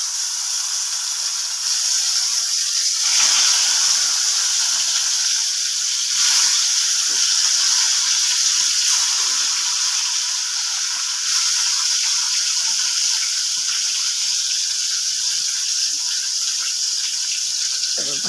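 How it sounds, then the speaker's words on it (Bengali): Fish roe sizzles in hot oil in a pan, a loud, continuous hiss with gentle swells and faint crackles that runs unbroken for well over fifteen seconds. "মাছের লাজাগুলো তেলের মধ্যে ছেড়ে দিচ্ছি।"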